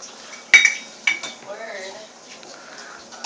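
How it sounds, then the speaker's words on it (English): A sugar mixture is whisked in a bowl, with a few sharp clinks of the whisk against the bowl and soft scraping that follows, close up, under quiet voices. "And then just whisk them and fold them carefully."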